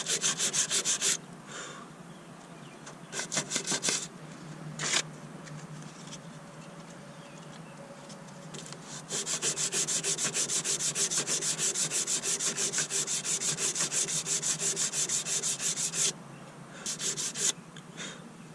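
Body filler on a car hatch is sanded by hand with 180 grit, giving close, rhythmic rasping strokes in bursts, with a long steady run of back-and-forth rubbing through the middle and brief pauses between passes.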